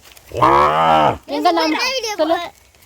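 Village cattle being driven home give a loud, close moo, followed by a second wavering bovine call, with nothing else around.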